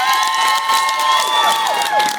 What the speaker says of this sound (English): I want y'all to give her a round of applause